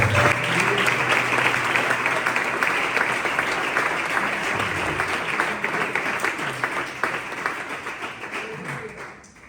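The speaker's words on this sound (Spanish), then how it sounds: "Le damos un aplauso a la palabra." A church congregation at Iglesia Filadelfia in Caranza, Ferrol, bursts into sustained applause, many hands clapping thickly and evenly before the sound thins and fades out near the end.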